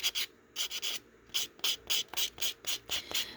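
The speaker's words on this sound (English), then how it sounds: "Just going to file away until it's nice and smooth." A nail file rubs over dip-powder nails to smooth them, about a dozen short, close scraping strokes in an uneven back-and-forth rhythm with no talking.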